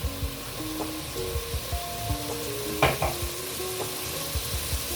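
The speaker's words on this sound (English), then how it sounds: "So we're gonna let onions cook for a little bit." Chopped onions, a mix of spring, red and white, sizzle and fry steadily in a pot for Ghanaian okra fish stew, with repeated scraping stirs and soft clanks of a utensil against the pot close by.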